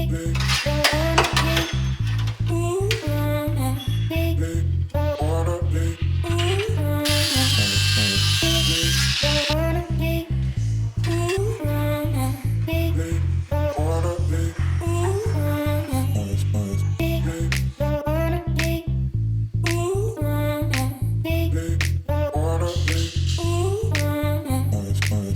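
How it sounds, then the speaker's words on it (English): A chisel works on the body metal of a BMW E30, giving a rapid, steady stream of sharp pneumatic-style hammering that runs loud and nearly continuous, with brief pauses between bursts. "Let's get some chisel done."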